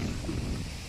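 Strong wind buffets a microphone at a hillside farm campsite, a steady low roaring rumble filling the short moment without any talk.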